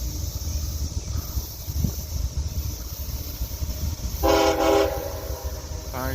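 Freight train rumbling past on the main line, a steady heavy roar of wheels and cars with a loud horn blast near the end.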